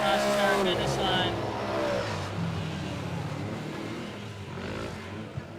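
A Can-Am X3 side-by-side crosses the start/finish line during a side-by-side race, its engine a loud, steady roar that fades slightly as it passes, with an announcer talking over it throughout.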